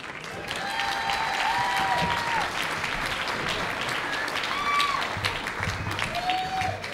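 Sustained audience applause at an awards show fills the room, steady and dense throughout, with some crowd cheering and whistle-like tones mixed in.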